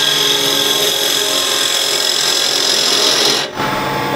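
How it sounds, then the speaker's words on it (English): A square scraper drawn steadily across a wooden box, giving a continuous close rasping scrape that runs unbroken for several seconds, dips briefly near the end, then resumes. "now with the square scraper I can"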